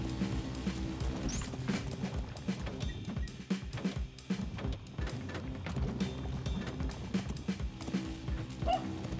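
Barking and yipping from the Rock Dog creature in the Spelunky 2 video game, repeated in quick bursts over a dense layer of game music and effects, fairly loud throughout.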